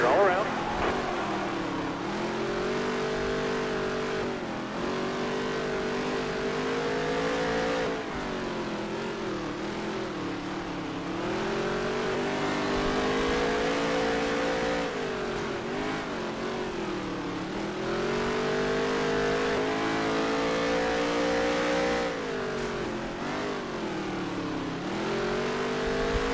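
Engines roar in a NASCAR race car video game as the field accelerates after the green flag, a loud sustained drone with rising and falling pitch, under someone talking over it.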